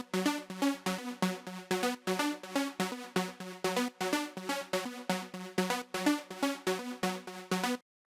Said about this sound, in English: Next up we have this arpeggiator